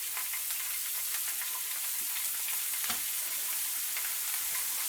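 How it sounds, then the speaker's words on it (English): Asparagus spears sizzle steadily in a thin layer of oil in a pan, a continuous bright frying hiss with a faint clink near the middle, close and fairly loud with no voices. "The asparagus goes in."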